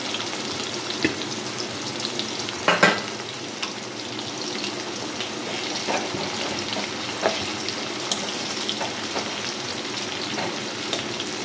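Onions frying in hot oil with panch phoron for a fish curry, a loud, continuous close sizzle with scattered pops and crackles and one clattering stir early on.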